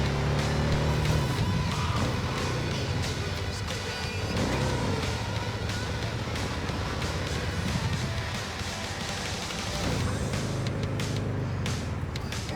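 A car driving in the video game Cyberpunk 2077 gives a continuous engine drone with shifting revs and road noise, steady and fairly loud for the whole stretch, with no talking.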